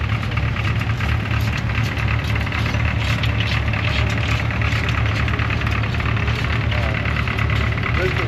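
A small vintage Beatrice tractor idles at a vintage machinery club grand parade in Kingaroy, a steady, loud, low engine drone running throughout with faint crowd and outdoor noise mixed in.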